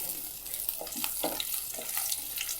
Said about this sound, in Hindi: घी हमारा गर्म हो चुका है। अब अपना कबाब इसके अंदर फ्राई करेंगे।